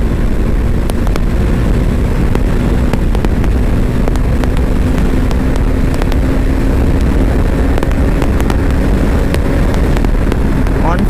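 A 2024 Bajaj Dominar 400 motorcycle at top speed, loud continuous engine drone buried in heavy wind rush against the microphone, steady throughout with faint intermittent ticks.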